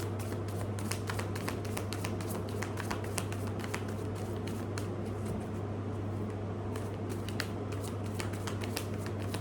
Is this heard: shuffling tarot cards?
yes